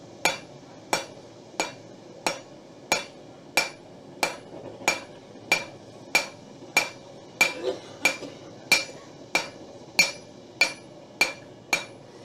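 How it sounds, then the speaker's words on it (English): A hammer's peen strikes a metal edge held over the horn of an anvil to stretch it. About nineteen sharp, ringing metallic blows land at a steady, even pace, close and loud, with no talking. "I want to take the peen of my hammer and stretch this edge"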